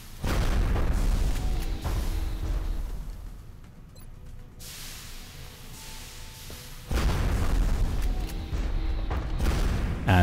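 Heavy weapon shots from a soldier in XCOM Enemy Within: a loud blast, a rumbling lull, then another powerful burst of booming fire with crashing impacts.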